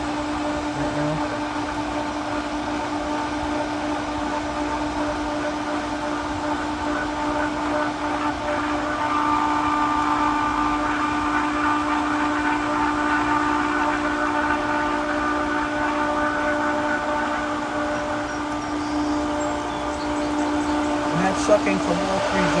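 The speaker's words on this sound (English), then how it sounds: "You can see the filter pumping right now." Pentair pool filter pump running with a steady, droning mechanical hum and whine throughout, constant and fairly loud, with no talking.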